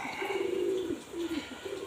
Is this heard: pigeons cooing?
yes